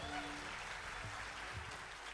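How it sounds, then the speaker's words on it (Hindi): Audience applause at a live music concert by a musical group, a steady wash of clapping that runs through the whole moment without a break. "मैं निवेदन करूंगा एंटायर टीम के लिए एक बार फिर से आप लोग प्लीज ताली बजा दें"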